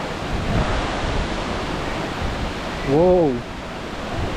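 Spray and rushing water roar from Aagaya Gangai Falls in the Kolli Hills, a steady broad hiss heard close, with a brief exclamation from a voice partway through.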